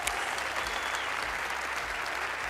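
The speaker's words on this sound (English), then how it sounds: "We'll give them a round of applause for helping out" Studio audience on a card-magic game show applauding steadily, a dense wash of clapping that holds at an even level throughout without pause.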